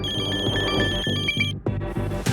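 A telephone rings with a repeated electronic bell tone in steady bursts, loud and close, the ringing cut off partway as a background music bed continues.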